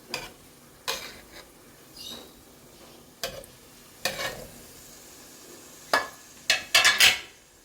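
A spoon stirs tomato and green chilli into a mussel rice masala in a pan, giving sparse scrapes and clinks against the pan over a faint sizzle, ending in a quick cluster of louder clatters, with no talk.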